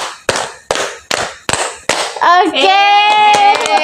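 A group of children and their teacher clap together in a counted pattern, five sharp, evenly spaced claps close by, followed by a voice speaking.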